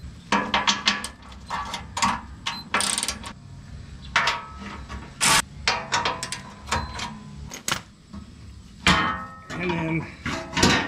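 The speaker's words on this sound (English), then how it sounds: "You just have to remove the back two, and then this whole plate will come out" A hand ratchet clicks in quick bursts while removing 15 mm skid plate bolts on a 2021 Ford Bronco with the 2.7 engine, with sharp metallic taps and clinks between the runs of clicking.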